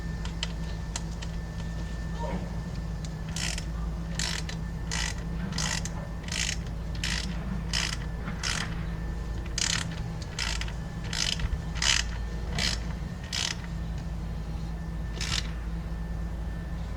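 Repeated ratcheting clicks in short bursts as Torx screws are driven into the rear coolant flange hose on a 2008 Audi A4 B7, steady mechanical clatter over a constant low hum.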